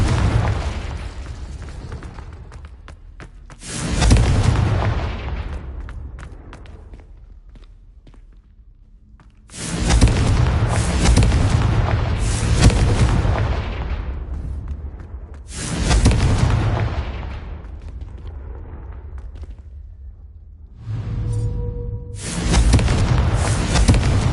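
Confringo explosive spell bursts in the Hogwarts Legacy video game, a series of loud booming blasts with long rumbling tails recurring every few seconds, close and heavy with no talking over them.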